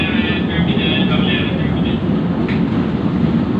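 An LRT-1 light rail train passes at Baclaran in Manila, producing a loud, continuous close-range rumble with a higher metallic whine above it.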